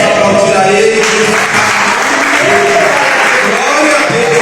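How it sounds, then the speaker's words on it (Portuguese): A church congregation applauds God during a worship service, loud continuous clapping blended with voices and tonal sounds that may be singing or instruments. "Vamos aplaudir a Ele."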